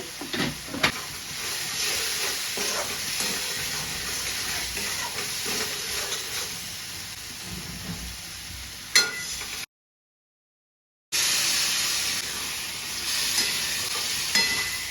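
Dried fenugreek leaves (kasuri methi) fry in hot oil for a chana dal dish, giving a steady close sizzle with scraping stirs, cut by a brief dead silence partway through.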